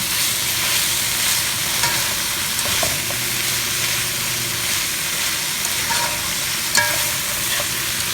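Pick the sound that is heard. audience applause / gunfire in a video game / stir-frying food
stir-frying food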